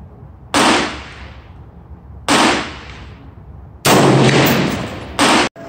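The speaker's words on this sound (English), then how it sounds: "So fourth shot." A rifle with a Thompson Center Compass 6.5 barrel fires outdoors: four loud, sharp reports spaced over about five seconds, each with a booming, decaying echo and no talking.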